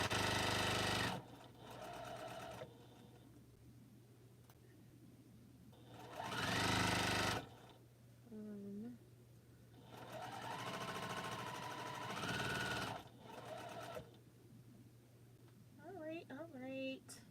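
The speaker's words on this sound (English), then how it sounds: "it sews much faster to me than the Bernina" A domestic sewing machine stitches a quilt, running over pins in several short, loud bursts separated by pauses, with a person talking between and over the runs.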